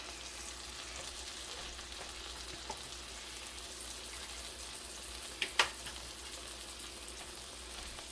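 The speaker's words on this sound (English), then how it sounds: "Now, let these sear and get brown." Stuffed pork chops sear in a hot pan with a steady, even sizzle and frying hiss throughout, plus a couple of brief sharp pops or clicks near the end.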